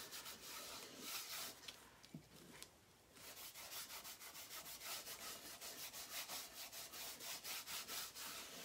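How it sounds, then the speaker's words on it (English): Finishing wax is rubbed by hand onto the top of a piece in close, quiet, rhythmic strokes, giving a soft repeated swishing that runs steadily throughout. "I'm just putting a little bit of finishing wax on the top."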